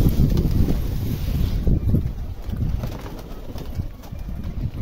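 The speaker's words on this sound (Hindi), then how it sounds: "हम फटाफट से दाना दे देते थोड़ा सा कबूतरों को।" Pigeons coo softly nearby while being fed grain, amid gusty wind noise, with faint rustling and shuffling throughout.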